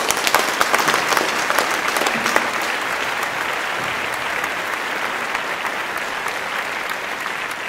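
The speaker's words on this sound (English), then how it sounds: "If you clap your hands, clap them for Jesus" A church congregation claps hands together in sustained, dense applause that stays steady and fairly loud throughout, with no voices standing out.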